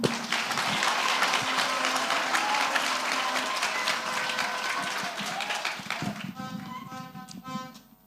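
Congregation at a church ordination service for a bishop claps loudly and steadily for several seconds, then the clapping fades out as spoken voices come through.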